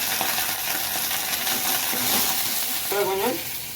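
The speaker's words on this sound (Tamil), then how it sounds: "சேர்த்து கொத்தமல்லியும் போட்டு வதக்கணும்" Greens and coriander sautéing in a pan for thoothuvalai thuvaiyal, a steady soft sizzle with occasional stirring scrapes and a light metallic clink near the end.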